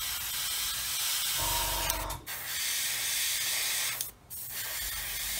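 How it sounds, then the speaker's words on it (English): Continuous close hiss of an airbrush spraying lacquer paint at low pressure, interrupted by two brief pauses, with a low mechanical hum underneath. "It seems to be spraying absolutely fine."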